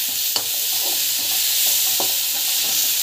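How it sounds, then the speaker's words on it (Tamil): Bitter gourd and tomato sauté in hot oil with a loud, steady hiss and a few soft stirring scrapes, heard close with no voices. "இது வந்து பார்த்திங்கன்னா அந்த எண்ணெயில் வந்து நல்லா ஃப்ரை ஆகணும்."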